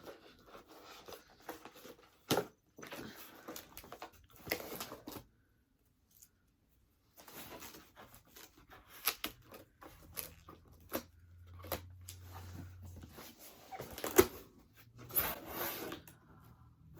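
Scissors and hands working at a heavily taped package, giving intermittent close scraping, snipping and tearing sounds with crinkles and rubbing, broken by short pauses and a low hum partway through.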